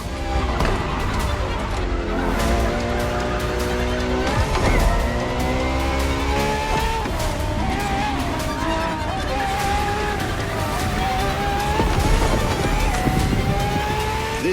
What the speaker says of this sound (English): for this second lap, you'll be driving the FXXK